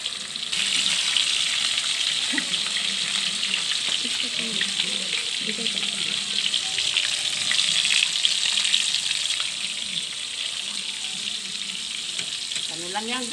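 Milkfish liver omelette frying in spattering oil, a loud continuous sizzle with scattered pops and stirring scrapes, close and unbroken, with faint bits of voice underneath.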